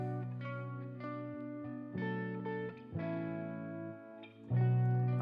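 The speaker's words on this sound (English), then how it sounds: "You can really help your stuff sound a lot better by incorporating some reverb bussing." Music mix in Logic Pro with reverb added through sends, playing sustained harmonic chords and notes with a spacious, washed tail between changes and a louder swell near the end, with no voices.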